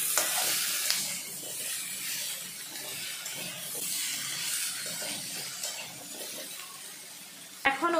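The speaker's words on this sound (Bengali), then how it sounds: "শসাগুলো দেওয়ার পর কিছুক্ষণের জন্য শসাগুলো ভেজে নিতে হবে।" Sliced cucumber fries in a hot wok with a continuous, close, bright sizzle and hiss that swells and eases slightly. A single sharp metallic clank sounds just before the end.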